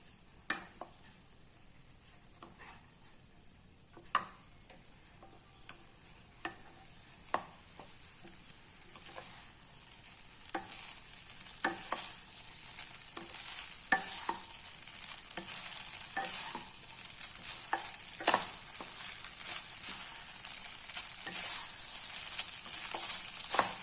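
Vegetable fried rice stirred and tossed in a pan at home, with a steady sizzle that grows louder over time and irregular scraping clicks of the spatula against the pan, close up with no voices.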